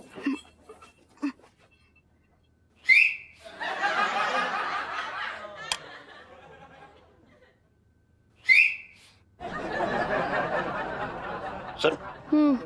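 A woman's shrill whistle sounds twice, each a short bright note, followed by bursts of broad noisy laughter or chatter in a comedic domestic scene; voices are present.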